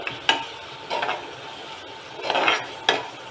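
Tomatoes are sautéed in a pan for kovakka (ivy gourd) mezhukkuvaratti, a soft continuous sizzle broken by four distinct scraping stir strokes of a utensil against the pan.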